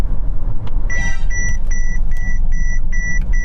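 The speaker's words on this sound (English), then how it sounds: "that noise is to illustrate that I'm getting too close to the car in front and it wants to auto brake" Repeated electronic warning beeps inside a Mercedes EQS SUV as it closes too fast on the car ahead and prepares to auto-brake: a rapid burst of tones, then a steady string of evenly spaced beeps over road and cabin rumble.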